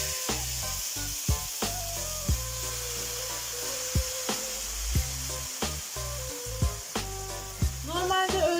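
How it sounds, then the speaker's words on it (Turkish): Water poured onto toasted rice in a pot, giving a steady sizzle with periodic scraping knocks of a utensil against the pan. "Şimdi pirincimiz kavruldu ve e, suyumuzu ilave ediyoruz"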